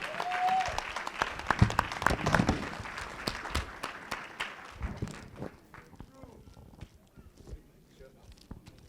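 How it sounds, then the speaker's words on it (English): A room applauds a community honoree at a municipal inauguration ceremony, loud dense clapping at first that thins and fades over several seconds into scattered claps, with voices murmuring underneath. "Let's give him a nice round of applause"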